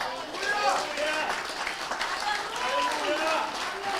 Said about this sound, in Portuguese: Se vocês recebem, aplaudir ao Senhor.